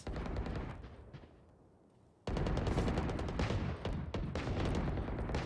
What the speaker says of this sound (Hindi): भाई बहुत अच्छा साउंड आ रहा है मेरे को इस गन का